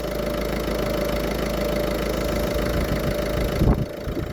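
The 115 HDI diesel engine of a Citroën C4 II idles steadily during an air-conditioning recharge, a constant close hum with a faint knocking texture. A brief clunk comes near the end.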